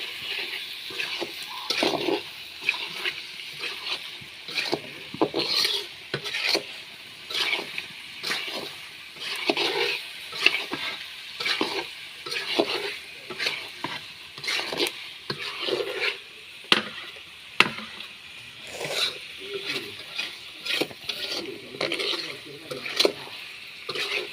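Minced goat meat being stir-fried in a pan, a rhythmic series of scraping stirs over a constant sizzle, close and repeated steadily, with a voice speaking at moments.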